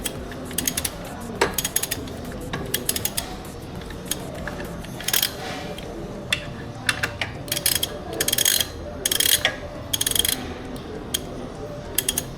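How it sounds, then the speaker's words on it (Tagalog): A hand ratchet tightens the oil drain plug on a 450SR motorcycle during an oil change, its pawl clicking in quick repeated bursts with short pauses between strokes, close up and clear over a steady background hum. "Pero since wala kaming torque wrench dito, gumamit na ako ng ratchet."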